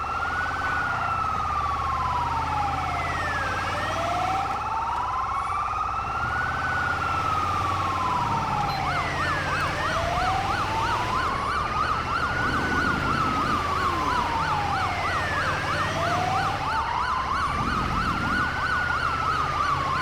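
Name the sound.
emergency vehicle siren in video game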